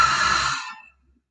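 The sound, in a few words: deep open-mouth cleansing exhale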